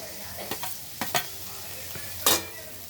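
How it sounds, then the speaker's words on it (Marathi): Capsicum, Shimla mirch, sautéing in a pan makes a soft background sizzle cut by several quick spatula scrapes and taps, the last one loudest, close by with no speech. "आता शिमला मिरच टाकूया आणि व्यवस्थित असं याला परतून घेऊया"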